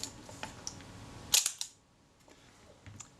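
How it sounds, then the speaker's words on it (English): A repaired camera shutter, formerly jammed, fires once with a sharp, crisp close-up click, followed by a quieter mechanical tick and faint handling noises in an otherwise quiet room. "The shutter works well."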